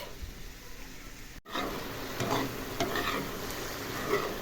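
Onion and mushrooms fry in a pan, a steady close sizzle broken by a brief cut, followed by scattered clicks and scrapes of stirring over the ongoing frying hiss.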